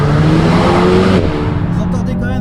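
An Alpine A110 Légende GT driven hard, the engine roaring loudly close by and dropping pitch sharply midway as revs fall, with a voice briefly heard over it.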